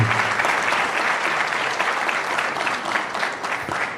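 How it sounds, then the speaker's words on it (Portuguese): Audience at a university emeritus professor award ceremony claps steadily, a dense, even round of applause lasting throughout without voices over it. "uma salva de palmas aos representantes da JUP pela grata lembrança ao professor emérito"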